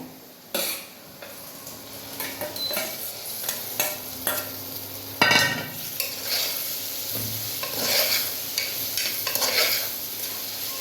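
Potatoes and tomato frying in hot oil, a steady sizzle punctuated by the scrape and clink of a spoon stirring against the pan, close and continuous.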